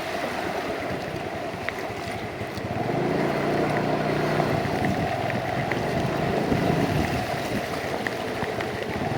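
Steady rushing floodwater from Cyclone Fengal flows continuously in Nallur with a broad wash of noise and some wind buffeting the microphone, no voices heard.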